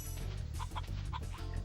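Chickens cluck repeatedly in Spyro the Dragon, with short, steady clucks over a continuous low game music or ambience bed.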